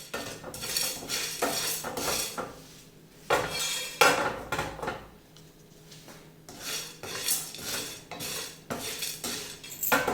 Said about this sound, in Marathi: एक चमचा उडीद डाळ घ्यायची आहे हे दोन मिनटं आपल्याला भाजून घ्यायचं आहे